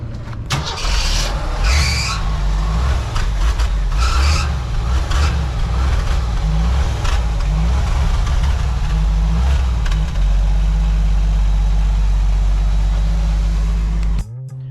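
A classic car's engine cranks and fires loud and close, catching into a rough, steady idle that rumbles on, with a brief squeal at the start and no talk.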